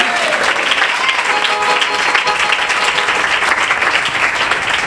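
A church congregation bursts into loud, dense applause during a pastor's sermon on fasting, steady sustained clapping from many hands filling the room for several seconds.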